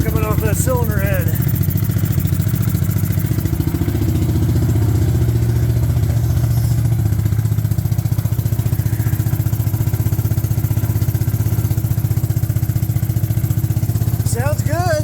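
A revived Suzuki King Quad ATV engine runs steadily at idle with a dense, even mechanical chug and clatter, loud and close, with a brief rev near the start and another toward the end.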